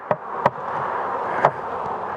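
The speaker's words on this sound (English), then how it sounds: "lots of bees on here" Honey bees swarm and buzz in a steady close hum around an opened hive box during spring beekeeping, with a few sharp knocks and taps of frames or equipment breaking through.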